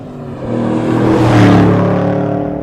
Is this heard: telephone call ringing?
no